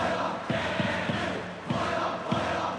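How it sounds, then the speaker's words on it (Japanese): Stadium crowd in the baseball video game eBASEBALL Powerful Pro Baseball 2022, Hanshin vs Nippon-Ham, chanting and cheering in a steady rhythmic beat of loud pulses that fill the whole stretch. "大きな声援が届いています。"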